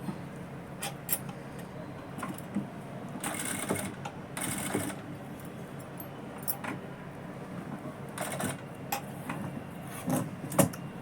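A sewing machine stitches a blouse lining in short, intermittent bursts of rapid whirring between quiet pauses, close and moderately loud, with no voices.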